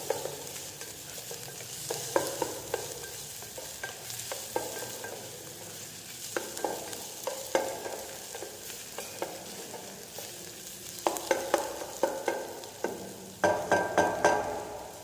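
Onion and mushrooms stirred in a pan for a cream of mushroom soup, with scraping spoon strokes in irregular bursts over a steady soft sizzle, clustering more densely toward the end.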